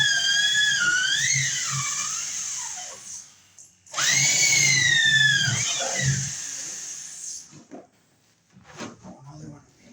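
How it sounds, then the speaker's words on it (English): A power drill bores through hard wood with a loud, close whining bite whose pitch sags and rises under load, in two long bursts with quieter pauses and a few short spurts; a voice speaks faintly in the background. "This wood is really hard to drill through."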